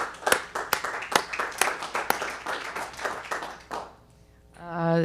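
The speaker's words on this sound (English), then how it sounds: "Thank you for that round of applause for Jewel." A few people at a village board meeting clap in a sparse, uneven patter that thins out after about four seconds, then a single voice begins speaking.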